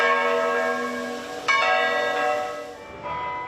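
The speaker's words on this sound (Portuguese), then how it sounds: "Sinos de 8 igrejas de Salvador tocaram juntos pelas vítimas da Covid." Church bells in Salvador, Brazil, toll together for Covid victims, rich ringing strikes with long humming decay, one loud fresh strike midway and another fainter near the end, with no talk.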